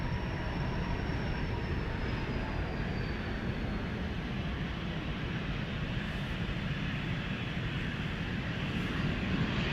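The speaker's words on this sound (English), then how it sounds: "Now the Embraer 190 KLM flight 1763 to Bremen is going to take off." A KLM Embraer 190 takes off at Amsterdam Schiphol Airport, heard as a constant, broad jet roar at moderate distance with a faint rising whistle early on, steady throughout.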